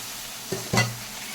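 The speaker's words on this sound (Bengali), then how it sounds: "দিয়ে দিচ্ছি ম্যারিনেট করা মাংসটাকে" Marinated meat dropped into a pan of well-fried onions gives two quick bursts of sizzling and stirring, the second louder, then a steady hiss of frying.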